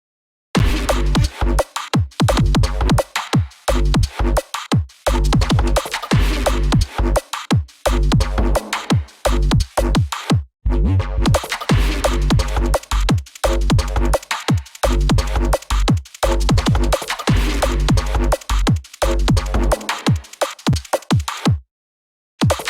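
Neurofunk drop played back loud and dense: heavy sub-bass and gritty distorted bass stabs punched by sharp rhythmic drum hits, with brief gaps between bursts and a short silence near the end.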